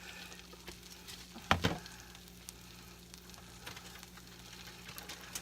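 A chicken and bacon tortilla wrap fries in a pan with a soft, steady sizzle and a low hum, close but quiet, broken by one brief louder clatter.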